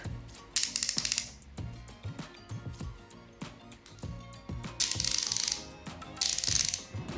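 Hazet long 1/2-inch fine-tooth ratchet with 90 teeth, clicking in quick close bursts of rapid fine ticks separated by pauses, with some handling noise between.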